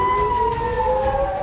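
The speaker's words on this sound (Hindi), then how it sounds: "इजराइल में पूरी रात सायरन बजे।" Air raid sirens wail across Israel in a loud, steady, sustained tone that holds a slowly gliding pitch throughout, with no talk over it.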